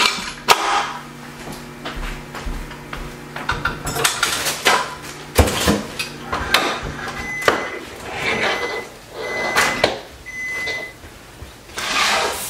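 Kitchen dishes and utensils are cleared up while strawberry cheesecake cookies are baked, giving irregular clinks, knocks and clatters close by, with a few sharp metallic hits and no talking.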